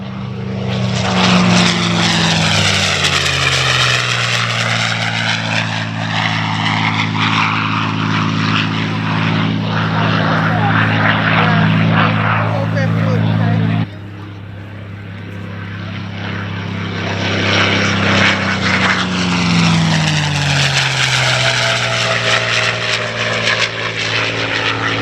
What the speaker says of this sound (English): Carefully, ladies and gentlemen, as the Merlin, the P-51, brings it home.